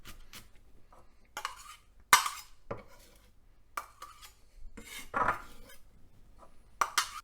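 A knife slices garlic thinly on a cutting board, producing a sparse run of quiet, irregular taps and scrapes with short pauses between strokes, close and faint in a calm kitchen.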